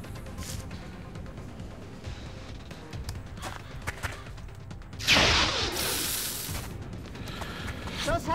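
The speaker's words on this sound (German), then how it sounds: "Werfe Granate!" A grenade detonates in the turn-based strategy game XCOM, a loud broadband blast around the five-second mark that rolls off into a sustained rumble, following several seconds of busy game noise and footsteps.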